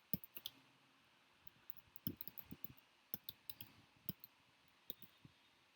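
Sharp, faint computer mouse clicks come one at a time at irregular intervals in a quiet room, with short gaps between small clusters of clicks.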